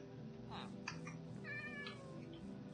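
Cat meows in Minecraft, modded Enigmatica 4 pack, two or three short rising game-sound mews over a steady background music bed, moderately loud.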